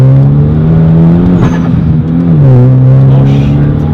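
A 2013 Hyundai Genesis Coupe 2.0T turbo pulls hard in second gear, its engine droning loud and close in a sustained rising tone that dips briefly mid-pull before climbing again.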